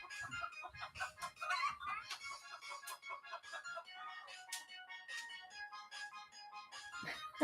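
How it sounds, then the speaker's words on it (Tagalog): Chickens clucking repeatedly nearby, a busy run of short calls with some higher squawks, no talking. "Ayan yung manok."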